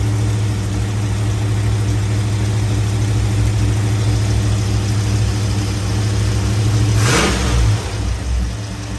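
A 1984 Corvette engine idles with a steady, loud, low rumble for about seven seconds, then gives a brief rev near the end.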